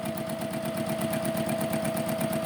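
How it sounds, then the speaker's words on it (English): A sewing machine stitches fabric pieces for half-square triangle quilt blocks, a steady rapid mechanical chatter with even rhythmic pulses running continuously at close range, fairly soft and without talk. "I'm actually sewing just a hair closer than a 1/4 inch away"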